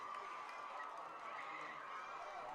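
A high school football crowd at an Onalaska versus Holmen game roars and cheers steadily throughout, a continuous distant wash of voices and shouting at fairly low level.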